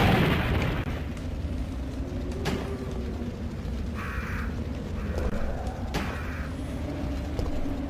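Explosion sounds in the video game Resident Evil 3, with a sharp blast followed by a few brief bursts and pops over a dense, rumbling low background.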